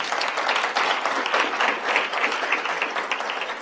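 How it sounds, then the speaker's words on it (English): Audience applause at an Oxford Africa Conference session on artificial intelligence in education, greeting the judges: dense, steady clapping from a room full of people, sustained and fairly loud for the whole stretch with no voices on top. "A round of applause for our judges, please."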